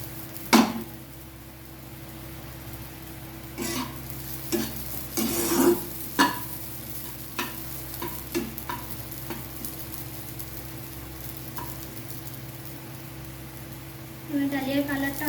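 Dalia, broken wheat, roasting in a pan, a soft dry sizzle beneath a steady hum, punctuated by repeated scraping stirs and spoon knocks, with a busier stirring flurry at the end.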